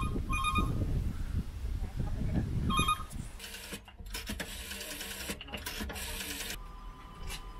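A museum telephone kiosk phone rings with a modern electronic tone, a tight repeating trill in short bursts, heard up close after a stretch of low rumbling handling noise.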